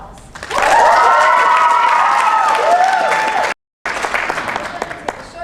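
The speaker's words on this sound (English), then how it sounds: "Let's give them a round of applause" A school audience gives a round of applause after a comic book artist act, with loud sustained clapping and crowd noise near the microphone, briefly cutting out, then thinning to scattered claps.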